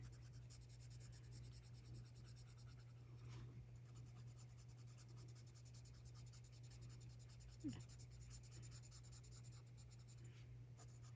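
French gray colored pencil shades a leaf drawing on paper in small circular strokes, a soft, continuous close scratching over a low steady hum, with one slightly louder tap partway through.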